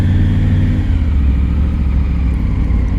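Triumph Tiger 900 GT motorcycle engine running steadily while riding through town, a loud, close, constant mid-pitched drone with no talking.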